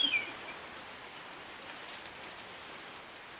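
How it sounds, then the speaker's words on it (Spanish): Steady rain falls outdoors as a soft, even hiss, with a brief faint bird chirp near the start and no talking. "pues como está lloviendo, pues aprovechamos."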